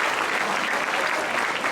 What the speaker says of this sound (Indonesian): Tepuk tangan dong untuk hadiah ini ya